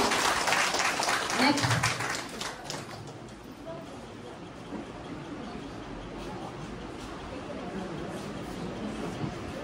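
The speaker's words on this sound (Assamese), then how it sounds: "তো ডাঙৰকৈ এটা হাত চাপৰি হ'ব লাগে" Applause from a crowd at a thanksgiving event rises at the start and then settles into lighter, scattered clapping, with voices murmuring throughout.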